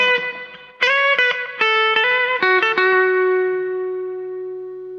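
Cheap guitar delay pedal with feedback and echo set low, a run of plucked guitar notes repeating in echoes, then a final note ringing and decaying smoothly with no talk.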